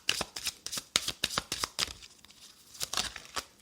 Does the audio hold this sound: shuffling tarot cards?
yes